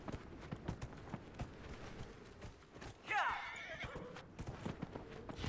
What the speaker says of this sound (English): This horse is fucking slow.